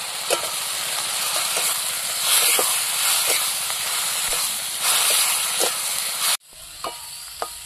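Onions and ground spice paste with chili powder, salt and turmeric frying in a pan: a steady close sizzle and hiss with regular stirring scrapes, cutting off abruptly near the end before quieter sizzling resumes.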